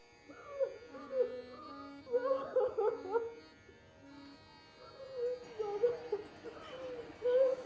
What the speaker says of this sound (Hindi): इस तरह रोने की आवाज़ चौखट के भीतर गई